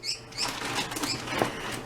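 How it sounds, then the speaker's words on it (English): Pet bird flapping its wings as it scrambles away toward a cage, a brief soft flurry of rustling beats close by. "Bird running away."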